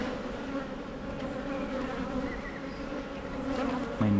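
Honey bees buzz steadily around an open beehive during a frame-by-frame inspection, a dense continuous hum close by with a brief louder burst near the end.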